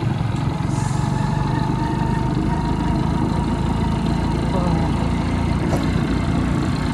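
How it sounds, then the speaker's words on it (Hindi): A motorbike engine runs steadily while being ridden through cold, foggy winter air, a constant low rumble with road and wind noise throughout and no talking. "सर्दी बहुत हो रही है तो मैं बाइक निकल के चला रहा"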